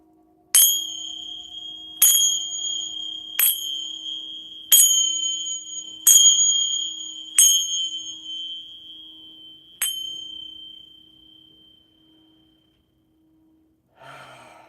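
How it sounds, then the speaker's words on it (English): Sacred bells are struck about six times in slow succession, each strike ringing out clearly with a sustained shimmering tone that fades to near silence, followed by a brief soft rustle at the end. "I'm going to go ahead and clear the energy with my sacred bells."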